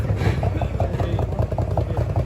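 A small motorcycle engine with an electric-start problem runs close by, holding a steady, quick idle pulse throughout with a little throttle, while voices talk nearby.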